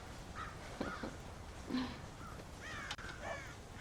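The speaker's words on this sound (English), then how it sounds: "God damn crows!" Crows cawing in a western video game, several harsh caws spaced irregularly over a low ambient background, moderately close and fairly faint, with no speech.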